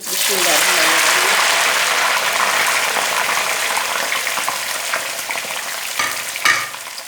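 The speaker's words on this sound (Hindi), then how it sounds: "अब इसी ऑयल में हम डाल देंगे बैंगन" Eggplant pieces frying in the oil left from fried onions for a spiced achari baingan curry: a loud, steady, close sizzle that holds throughout, easing slightly near the end with a couple of clacks from stirring.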